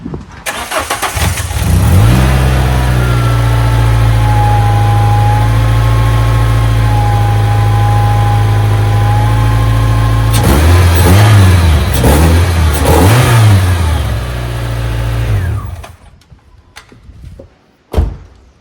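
A Renault Clio 172 with the F4R engine, running again after a coil pack change, starts up and idles steadily, then blips through a few sharp revs before shutting off, followed by a brief thud.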